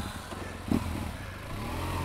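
Motorcycle engine at low speed during a slow-riding tennis ball collection drill, a faint steady putter from a distance with one brief bump in loudness as the clutch is feathered.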